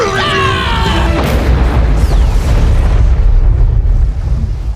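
An explosion sets off an avalanche in an animated movie: a loud, broad blast swells into a sustained roaring rumble that fills the whole stretch, with a brief tonal sound before the blast.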